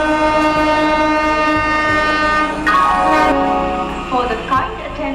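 Local train at Naihati station sounding a loud, sustained horn with a rich tonal ring that swells near the end, over steady rumbling station noise and no talk.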